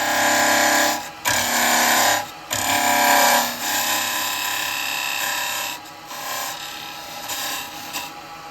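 A 14mm square carbide chisel scraping wood on a spinning lathe while turning a mead cup, a loud continuous rasping cut that stops briefly a few times and then resumes; no talking.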